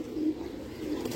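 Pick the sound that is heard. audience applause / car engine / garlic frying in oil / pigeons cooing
pigeons cooing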